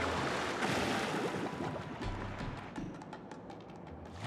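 Ocean waves in Paper Mario: The Thousand-Year Door, a steady broadband wash of surf with gentle swells, continuous and moderately loud for a few seconds with no voices.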